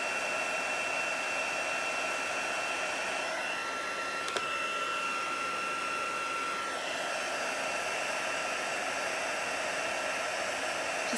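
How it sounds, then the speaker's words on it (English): A handheld heat tool melts gold embossing powder on a card, giving a steady, close fan-driven whir with a thin tonal whine, continuous and unbroken apart from one tiny click, no talking. "you just move your heat tool all around until you get all of it nice and shiny"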